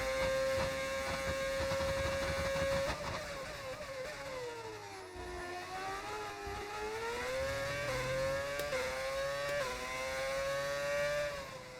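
Formula 1 racing car in an F1 video game, its engine note climbing and dropping in pitch with repeated upshifts and downshifts, loud and continuous with a steady background hum.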